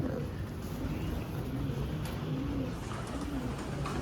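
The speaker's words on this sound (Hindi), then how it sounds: "ये प्योर टेडी कबूतर हैं" Teddy pigeons coo softly in a repeating low rhythm, several rounded calls rising and falling close by over a steady background hum.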